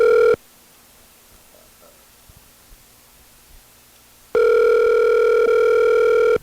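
A phone ringback tone sounds in two long steady bursts separated by about four seconds of quiet, heard on an outgoing call.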